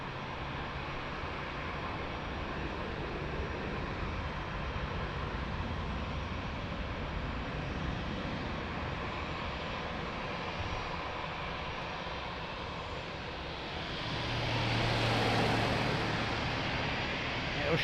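Airliner landing on runway 02 at Lisbon Airport, a broad steady roar of jet engines held throughout, swelling louder near the end, with faint voices underneath.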